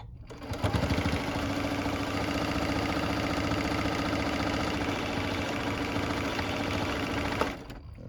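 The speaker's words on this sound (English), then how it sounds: "So now I'm going to sew this with about a 1/2 inch seam, a 1/4 inch seam" Sewing machine running a quarter- to half-inch seam through several stacked fabric layers, a loud, continuous close-up whirr with a fast mechanical rhythm lasting about seven seconds and stopping sharply, no voices.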